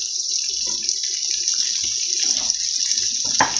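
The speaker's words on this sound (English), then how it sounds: "Pour that juice on." Juice pours steadily onto mushrooms in a pot, a continuous close, bright liquid rush lasting several seconds, with a few soft clinks and knocks under the flow.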